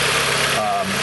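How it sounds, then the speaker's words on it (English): A Jeep Compass engine runs after a throttle body repair, a brief close mid-pitched engine drone with a slight rise in pitch near the end, and a voice sounding over it. "Let's give her the old rev up tune up here real quick."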